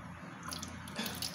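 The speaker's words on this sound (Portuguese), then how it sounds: "a gente vai começar colocando água. Lembrando que a água é morna." Warm water poured for pizza bread dough makes a short, soft trickling splash that swells slightly near the end, heard alone at low volume.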